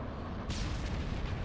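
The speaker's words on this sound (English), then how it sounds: "maybe he just wanted to, like, see one of his nukes actually land" A nuke lands and detonates in StarCraft 2, a sudden bright blast about halfway in that rolls into a rumbling decay over steady game background noise.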